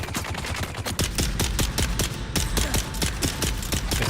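Rapid gunfire in the video game Dune: a dense, loud string of evenly spaced shots fired in quick succession, close and continuous with no talking over it.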